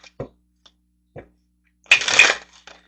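Romeo and Juliet oracle cards are shuffled in one quick riffling burst of about half a second, preceded by a few soft, scattered taps and handling sounds at close range.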